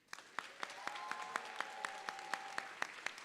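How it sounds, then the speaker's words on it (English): Applause from an audience at a university convocation and rites of passage ceremony: steady clapping with sharp individual claps standing out, moderately faint and spread across the hall, with a brief tonal hum running under it. "Please give another round of applause for Miss Michaela McGee"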